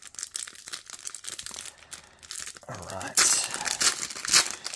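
A foil wrapper on a 2001-02 Topps Stadium Club hockey card pack is ripped open, with crinkling that grows into a louder, sharp tearing rustle up close.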